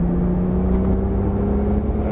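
A Porsche 997 Turbo engine pulls hard at full throttle on a track, a loud, steady droning whir with a sustained tone, heard from inside the car with no talk over it.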